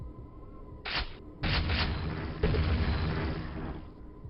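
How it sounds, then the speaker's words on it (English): Enemy grenade launcher fire and blasts in Quake, a short burst followed by longer, heavy rumbling explosions that swell and fade, fairly loud with no talking. "Thank you for firing your grenade launcher."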